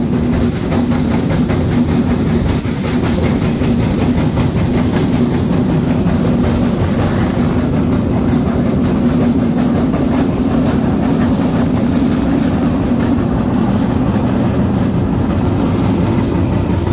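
Loud, sustained rumble and rhythmic wheel clatter of rail cars at Tangail railway station, where the Dhumketu Express stands during a crossing, an unbroken heavy rolling sound with a low engine drone underneath.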